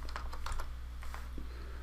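Fingers typing on a computer keyboard while entering part details in CAM350 PCB software, a quick run of light clicking keystrokes in uneven bursts over a steady background hum.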